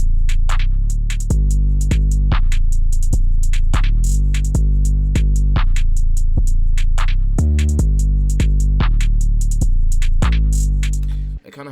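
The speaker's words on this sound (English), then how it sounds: "All together, the whole drum pattern sounds like this." Booming distorted 808 bass hits with crisp, sharp percussion in a bouncy drill-style trap loop, loud and close, no voices.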